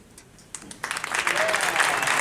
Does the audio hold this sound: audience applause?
yes